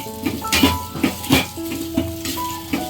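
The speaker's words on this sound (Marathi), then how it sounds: "त्याला आता खोबरा टाकून घ्यायचा सुका कापलेला ते असं तेलावर परतून कांदा वाटण बनवून घेतो" Dry sliced coconut and onion sautéed in oil for an Agri-Koli style mutton curry paste, with a spatula clanking and scraping against the pan in irregular strokes over a soft sizzle, no voices.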